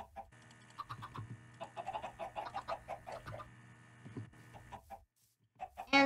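Chickens clucking in the video game Minecraft, a busy layered chatter of many short clucks over a steady hum, with a brief lull before a louder cluck at the end.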